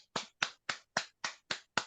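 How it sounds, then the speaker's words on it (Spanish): Seven sharp, evenly spaced hand claps at a slow, steady pace, close and distinct, with no talking, like a single person's applause at a conference talk. "Un gran aplauso para nuestro querido amigo Bernard."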